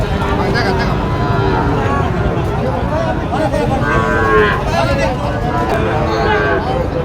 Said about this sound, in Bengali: এইটা সুন্দর কোয়ালিটির গরু